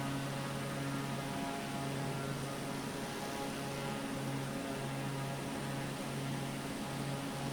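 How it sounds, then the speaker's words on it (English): PC-6 turboprop in a flight simulator taking off, a steady droning engine hum with broadband rush that holds constant throughout, no talking. "Let's just have a look at this beautiful aircraft taking off here."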